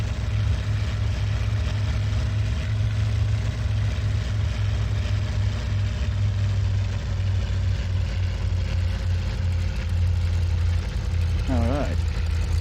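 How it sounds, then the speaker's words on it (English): A piston aircraft engine drones steadily on the ground in IL-2 Sturmovik 1946, a loud, constant low-pitched hum with a faint whine above it, briefly joined near the end by a short rising tone. "Quite a lot of torque from this engine, I will say."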